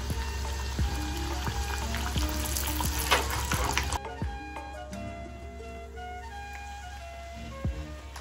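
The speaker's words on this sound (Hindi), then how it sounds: "तेल में छोड़ देंगे।" Bhatura dough deep-fries in hot oil, a dense crackling sizzle with bubbling and occasional spatter and stirring clicks, loud at first then settling into a quieter, steady fry.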